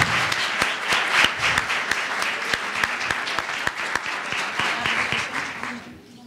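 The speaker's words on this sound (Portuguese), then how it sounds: "Acho que uma salva de palmas para a professora Terezinha" An audience applauds a teacher with loud, steady clapping that carries on for several seconds before tapering off at the end.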